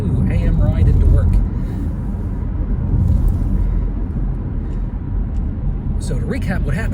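Car driving on the road on a morning commute, a steady, loud, low interior rumble of engine and tyres throughout, with a person talking over it for most of the time.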